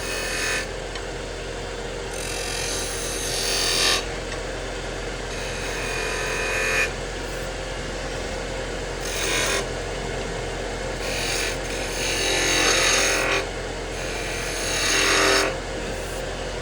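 A wood lathe spins a pepper mill blank while a skew chisel cuts coves and hollows, giving a steady motor hum broken by repeated bursts of hissing, scraping cuts every couple of seconds, close and fairly loud.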